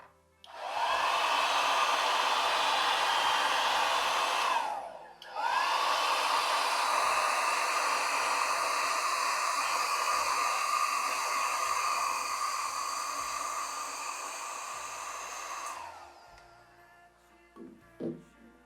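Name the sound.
blow-drying watercolor painting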